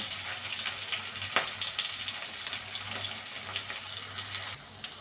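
A tempering of cumin, onion, a little garlic, curry leaves and dry red chillies frying in hot oil, with a steady close sizzle and a few sharp crackles, dropping off near the end.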